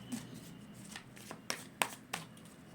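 Tarot cards are shuffled close by and quietly, giving soft riffling rustles and several sharp flicking snaps as the cards are cut.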